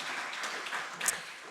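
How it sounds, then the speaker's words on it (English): Brief, fairly soft applause from an audience at a lecture afternoon on Asian art studies, an even patter of many hands with no voices over it. "So I'm going to give them one more applause."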